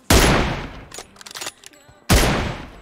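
Loud bursts of automatic gunfire in the mobile battle game PUBG Mobile, two heavy volleys framing a shorter scatter of shots in between, close and sharp.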